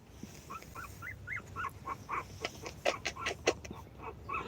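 A newborn litter of eight puppies whimpers in a rapid series of high, thin squeals, fairly close and rising in loudness, over a low hum with no talk.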